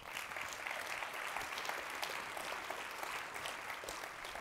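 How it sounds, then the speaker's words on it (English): Conference attendees applaud in a hall, a steady crowd of many hands clapping at moderate distance, sustained and even, without voices on top. "Let's give it up for Stossel in the classroom."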